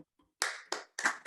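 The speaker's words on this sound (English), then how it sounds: "Give a round of applause." A few people clapping over a video call, heard as four separate bursts of handclaps with short silences between them, close and moderately loud, with no talking.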